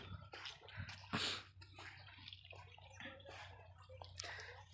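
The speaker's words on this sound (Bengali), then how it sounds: "এখন পানি খাচ্ছে লাইন হয়ে" Cattle drink river water at the Padma river: water sloshes and laps with soft splashes and slurps across the whole stretch, plus a low steady hum underneath and a few brief louder splashy bursts.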